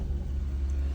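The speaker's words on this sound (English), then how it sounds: "Thankfully, all the traffic right now is going downhill." Traffic rolling downhill on a narrow road, heard as a steady low engine rumble that stays even for a second with no voices.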